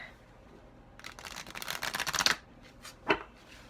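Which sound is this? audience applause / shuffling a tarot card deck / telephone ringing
shuffling a tarot card deck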